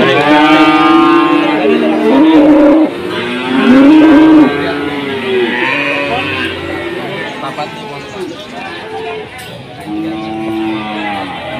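Cattle at a busy livestock market at Padangan, with lowing and moos rising through a loud crowd of people talking and bargaining close by, the animals mixed into steady chatter throughout.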